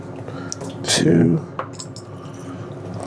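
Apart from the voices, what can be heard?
rinsing a vial with distilled water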